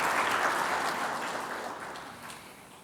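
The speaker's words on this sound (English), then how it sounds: "So big round of applause for the ICI managing committee" An audience at a Sunday morning gathering claps for its managing committee, with dense, steady applause that gradually fades over about three seconds.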